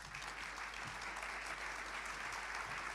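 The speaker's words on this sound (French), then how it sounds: "on les applaudit bien fort" Steady, continuous applause from a conference audience fills the whole stretch, fairly distant and even, with no single claps standing out.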